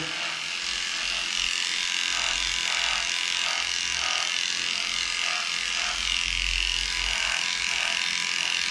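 Electric dog clippers fitted with a 10 blade shave a dog's body, making a steady, close, continuous buzzing hum with slight fluctuations as the blade moves through the coat.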